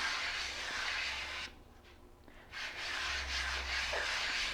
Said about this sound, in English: Rub it into this wood peel.